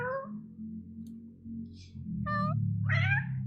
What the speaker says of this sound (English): Oh my gosh, a cat!